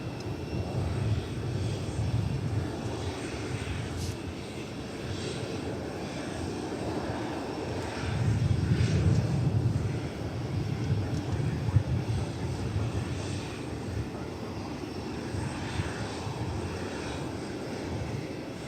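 An airliner arrives at Dallas Fort Worth International Airport, its engines roaring broadly at a distance and swelling louder midway before easing off, a continuous rumble with no talking.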